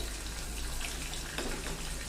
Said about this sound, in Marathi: हे बघा सार छान उकळायला लागलंय.